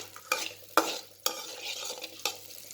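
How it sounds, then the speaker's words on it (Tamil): Spices frying lightly in butter in a pan for a restaurant-style paneer butter gravy, heard as a few sharp stirring scrapes and soft sizzling, close and moderately quiet, with no talking. "இது நம்ம இப்போ நல்லா லைட்டாக ஃப்ரை பண்ணிக்கலாம்"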